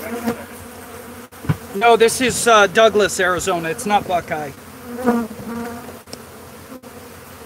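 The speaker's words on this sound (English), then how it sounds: "these are killer bees" Africanized honey bees, or killer bees, swarm in Cochise County, Arizona, making a steady background buzz. Someone talks over it, so the humming stays underneath his speech throughout.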